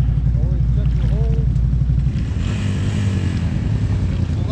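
Honda Fourtrax 300 ATV engine running steadily off-road, a loud continuous low drone that shifts and roughens partway through as the machine works over terrain, with voices talking over it early on.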